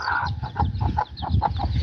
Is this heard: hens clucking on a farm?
yes